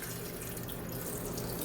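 Water runs steadily into a blender holding cut pieces of ginger, a continuous close pouring rush with no talk over it.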